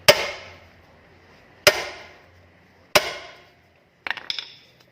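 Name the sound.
hammer hitting driver to loosen rusty brake screw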